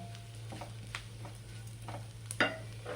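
Red chili powder heating in oil in a pan, a low steady sizzle broken by a few soft stirring scrapes and a brief clink, faint and close, with no talk.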